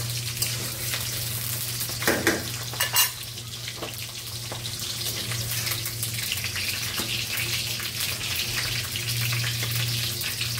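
Chicken pieces go into hot oil in a home kitchen pan, giving a steady, loud hiss of frying with a few clattering knocks early on and a constant low hum underneath, no voices.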